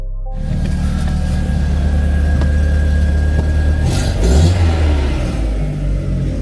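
A 2000s MK1 Audi TT 225 8N Quattro engine cold-starts and settles into a steady, rumbling idle, with a brief blip of revs near the end.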